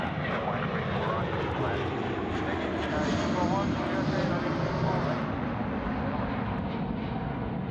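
A Jetstar jet airliner roars steadily at Sydney Airport, a broad, continuous engine rumble that holds level throughout while a voice talks underneath.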